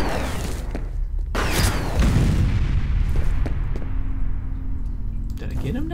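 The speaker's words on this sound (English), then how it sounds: "Watch out, grenade." A grenade detonates in the shooter game F.E.A.R., a heavy boom followed by rolling rumble and debris within continuous loud gunfire and game noise, with someone talking over it.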